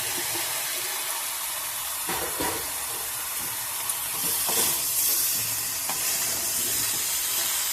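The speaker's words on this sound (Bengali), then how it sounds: "আলুগুলো শাক আর মশলার সাথে ভালো করে একটু কষে নেব।" Fried potatoes are stirred into bottle gourd greens and spices in a hot pan, giving a continuous moderate sizzle with occasional scraping stir strokes and soft clinks.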